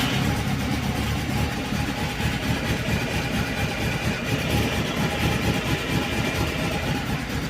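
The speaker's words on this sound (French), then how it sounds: "je vais vous montrer la meule, comment elle démarre au quart de tour" A motorcycle engine started cold and left idling: a steady, fairly loud, rough mechanical chug that continues evenly throughout, with no voices.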